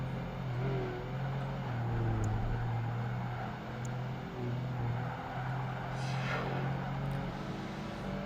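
A car engine drones steadily through a race in Project Gotham Racing 2, a muscle car's low hum holding at moderate loudness, with a brief rising whoosh of a passing car near the end.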